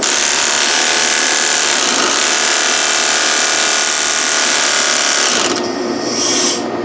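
A Hutchins Hustler board sander runs at full power with a loud, steady, dense whir and buzz, then changes pitch near the end as its speed is adjusted, with no voices.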